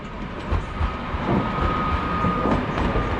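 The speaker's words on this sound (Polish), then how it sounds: "pociąg Intercity Malczewski z Krakowa Głównego do Kołobrzegu przed nami" Intercity Malczewski train at Wrocław Główny station, a steady rumble of rolling stock with a faint high whine, close and fairly loud throughout.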